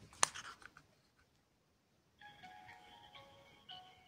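A Nokia 8910 mobile phone plays its polyphonic startup melody, a short, quiet run of tones with a few faint clicks before it, heard alone.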